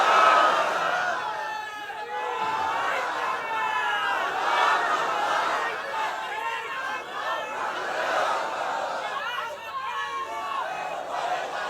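A sermon crowd shouts the takbir response together in a dense, loud collective roar that stays steady for several seconds.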